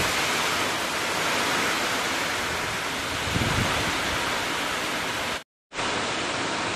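Heavy rain pours down in a dense, even hiss during hot summer weather, loud and unbroken apart from a brief cut near the end, with no voices.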